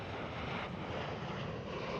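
A Transavia Boeing 737 airliner roars steadily at Schiphol Airport in Amsterdam, a constant, dense, broadband engine rush with a little wind noise and no voices.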